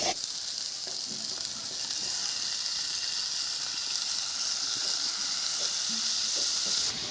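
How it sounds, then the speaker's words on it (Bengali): Marinated khoira hilsa fish slides into a kadai with eggplant and boiled potato, setting off a steady, close sizzle of hot oil. The hiss holds evenly throughout with no talking. "এবার এর মধ্যে দেবো মেখে রাখা মাছটা।"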